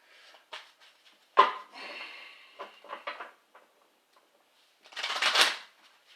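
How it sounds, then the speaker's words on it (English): Brief bursts of tarot card shuffling, a riffle in the middle and a louder, longer shuffle near the end, with quiet pauses between. "I'm going to shuffle the cards a little bit closer like this"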